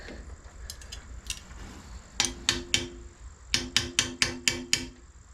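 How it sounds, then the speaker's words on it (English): Metal wrench clanks and taps on exhaust manifold bolts of a Merkur XR4Ti during an engine swap, a few scattered ticks then a rapid run of sharp, ringing metallic strikes, close and loud with no talking. "Gonna use a wrench."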